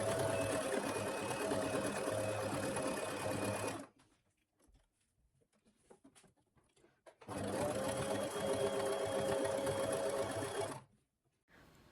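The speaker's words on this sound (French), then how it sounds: "Donc maintenant on va venir coudre ici au bord." A sewing machine stitches along the edge of a fabric scrunchie, running steadily in two close, even bursts of about four seconds each, separated by a short pause with faint handling noise.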